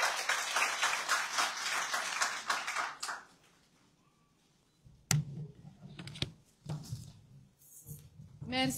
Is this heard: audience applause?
yes